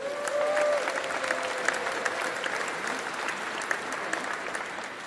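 Audience applause fills a church after a big band is introduced at a celebration in the Grote Kerk in Breda, a steady dense clapping sustained for several seconds with a faint tone at the start.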